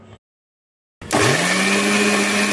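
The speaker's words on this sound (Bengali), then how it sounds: "একটা ছোট রসুন, 30-35 গ্রাম মতো আদা এবং 3টে কাঁচা লঙ্কা আমি মিক্সিতে দিয়ে এগুলোর একটা" A kitchen mixer grinder blends garlic, ginger and green chillies into a paste; after a short break of silence the motor starts abruptly and runs loud and steady with a high whine.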